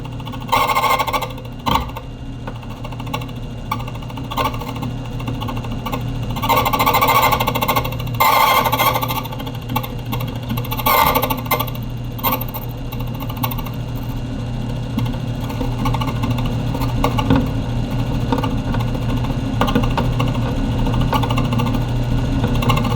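An HPC Speedex Classic key cutting machine cuts a key with a continuous grinding, buzzing whine that rises and eases slightly as the cut progresses. It runs steadily for about twenty seconds with no talking.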